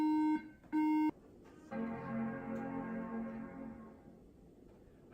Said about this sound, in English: those three beeps that we heard when we initially booted the iMac up after swapping out the power supply